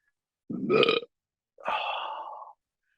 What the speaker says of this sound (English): We got this far into it before a burp.